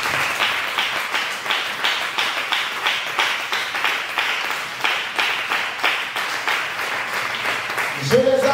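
A church congregation claps in steady rhythmic applause throughout, loud and fairly close, joined by voices in the crowd; a louder tonal sound enters briefly at the very end.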